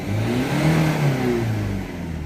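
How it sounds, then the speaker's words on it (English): A Volvo V50 1.6 diesel with a blocked particulate filter revs up in one smooth rising sweep, engine pitch climbing and holding before easing back down, close and clear with no talk. "So if I rev the car"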